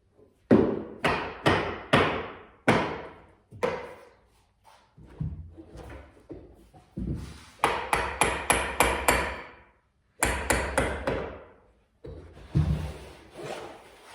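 Wooden canvas stretcher bars being knocked back into place, sharp close taps in quick bursts of three to five strikes separated by short pauses, each hit loud and dry with a hollow woody thud.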